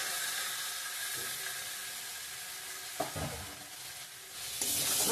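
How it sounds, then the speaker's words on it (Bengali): Potatoes and cucumber frying in spice paste sizzle with a constant hiss, with a few scraping stirs near the middle and the hiss swelling louder at the end. "আর একটু ভালো করে ভেজে নেব"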